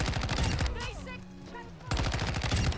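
Rapid, loud automatic fire from the Chimera gun in Call of Duty rattles in dense bursts, pausing briefly in the middle under a short electronic tone, then resuming just as hard.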